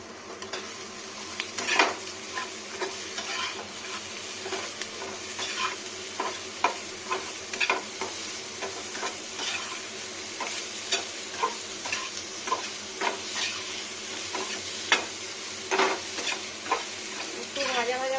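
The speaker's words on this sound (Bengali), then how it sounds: "একটু ভাজা ভাজা করতে হবে আলুটাকে।" Potatoes seasoned with turmeric and salt fry in mustard oil while being stirred in a pan, a steady close sizzle broken by repeated scraping and clinking strokes of the spoon throughout.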